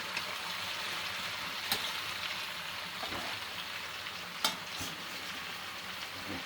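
Amla (Indian gooseberries) fry in a pan for pickle, making a continuous, even hiss of sizzling oil with a few sharp pops standing out, close and unaccompanied by talk.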